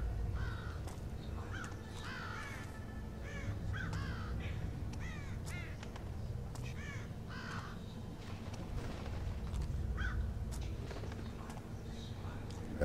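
Crows caw repeatedly in the Thief (2014) video game, a series of harsh calls at a moderate distance over a low ambient rumble, with a voice speaking beneath them.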